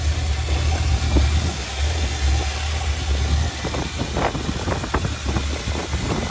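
A Chevy 350 V8 engine in a 1985 Chevy K20 truck with a carburetor and faulty exhaust idles with a deep, steady low rumble, close by, with faint mechanical clatter riding on top.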